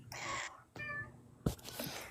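A pet cat meows several times close by, short plaintive calls separated by brief pauses, with a thump near the end.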